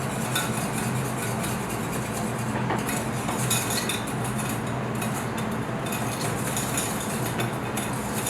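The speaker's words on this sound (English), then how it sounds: "Whisking the melted clarified butter." Butter being whisked in a metal bowl or pan in a fine-dining restaurant kitchen, a steady rapid clinking and scraping that runs continuously, close and moderately loud against a busy kitchen background.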